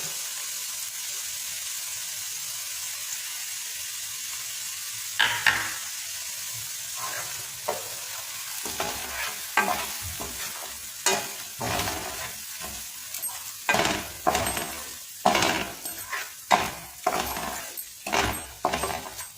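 Garlic-chili paste fries in oil in a pan for pav bhaji, with a steady sizzle throughout. A spoon scrapes and clinks against the pan in repeated stirring strokes that grow busier and louder as the clip goes on.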